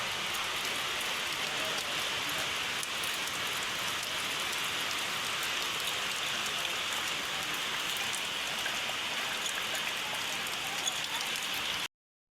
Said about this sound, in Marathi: पाऊस सकाळ म्हणजे रात्रीपासून चालू आहे अशीच आणि आता तर थोडासा जास्तच वाढलाय